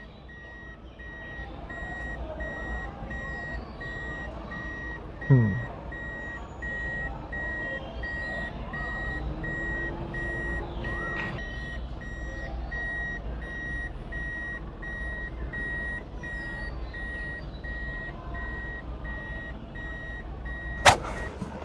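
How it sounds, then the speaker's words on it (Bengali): Steady reversing beeps repeat at an even pace over a low engine rumble for a long stretch, with a brief murmur from someone near the end. "আমি কিন্তু আমার গাড়িটা রিভার্সে নিলাম সম্পূর্ণ মিররের সাহায্যে"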